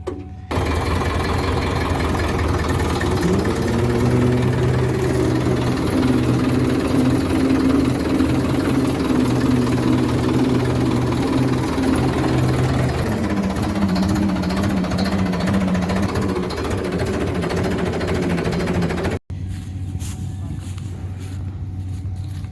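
A 1990 model 5911 tractor engine runs steadily and loudly close by, with a continuous throbbing idle lasting about nineteen seconds before it cuts abruptly to quieter background.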